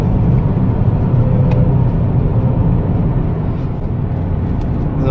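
A car takes a fast lap on a race track. Its engine and road roar are loud and continuous from the cabin and ease off slightly toward the end, with no talking.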